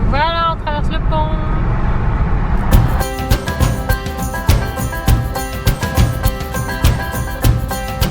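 A rental car crosses a bridge, with a steady low engine and road drone and wind rumble inside the cabin, rhythmic thumps, and a tonal hum that continues under voices.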